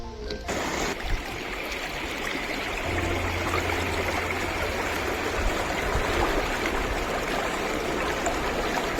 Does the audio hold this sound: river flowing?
yes